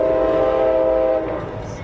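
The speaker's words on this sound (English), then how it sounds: "A man is walking along a bridge when suddenly a train comes fast in the opposite direction." A fast train rushing across a bridge, a loud sustained rumbling roar with strong tonal horn-like ringing over it, close and steady before easing slightly toward the end.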